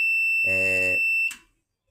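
A continuity beep from a multimeter probing a Panasonic NN-ST354W microwave oven sounds as one steady, loud, high electronic tone that holds for over a second and then stops, with a brief low thump under it.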